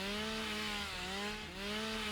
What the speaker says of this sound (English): Slide with a chainsaw.